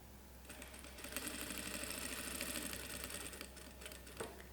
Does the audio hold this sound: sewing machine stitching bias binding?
yes